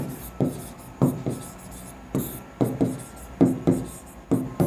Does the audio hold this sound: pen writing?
yes